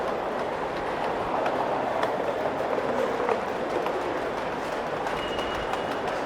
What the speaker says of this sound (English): we'll follow this freight train down the line, off down to the turntable